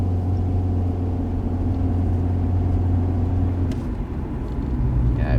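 Rover 45 CVT MK1 accelerating, a steady close engine drone with a constant low hum that shifts partway through as the pull continues, loud and without talk.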